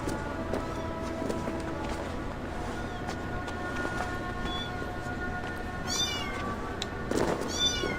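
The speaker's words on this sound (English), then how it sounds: "I'm gonna have to come get you, kitty cat, because you're being very loud." A domestic cat meows loudly, a couple of clear drawn-out cries near the end over a steady background of game music and hum.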